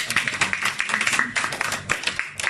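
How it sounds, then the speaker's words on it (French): Worship congregation clapping together in a church service: loud, close, rhythmic rounds of many hands, with strong steady beats throughout. "applaudissons le Seigneur"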